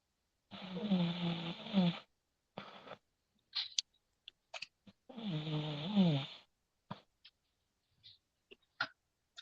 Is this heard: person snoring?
yes